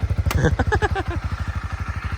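A 2018 Honda CB300R motorcycle with an aftermarket exhaust, recorded up close, gives a quick throttle blip and then settles into a steady, evenly pulsing idle.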